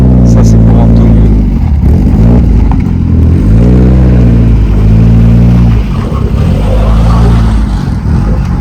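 A Porsche 924 Turbo rally car at the Tour de Corse Historique revs loudly nearby. Its engine note rises and falls in repeated throttle blips and sweeps, growling and very loud throughout.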